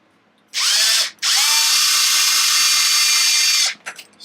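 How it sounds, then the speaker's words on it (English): A power drill set to low power whirs steadily on an RC car differential, a brief burst, a short pause, then a long sustained run that cuts off. "Remember to go easy with the drill, okay?"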